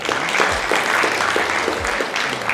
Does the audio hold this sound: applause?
yes